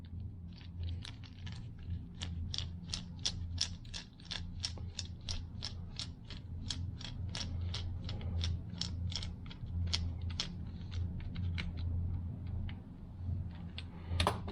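A screw being tightened on a Stromberg CD 175 carburettor from a Triumph Stag Rover V8, giving a long, steady run of close, crisp ratcheting clicks at an even rhythm over a low mechanical hum.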